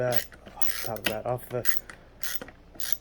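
A hand screwdriver turns screws into a Dirt Devil Multi-Surface Total Home Pet vacuum during assembly, giving close, repeated ratcheting clicks and rubbing in short bursts.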